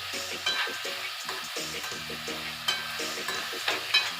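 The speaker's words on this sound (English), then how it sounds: "And as I'm stirring it, I just shake a little bit in there" Ackee and saltfish being stirred in a pot in a Jamaican home kitchen, with a close spoon scraping and clinking in an uneven rhythm over a soft, steady sizzle.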